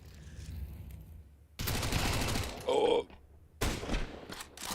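Gunfire in a Counter-Strike match, bursts of rapid automatic shots in two loud clusters with quieter game noise between and a short metallic tone.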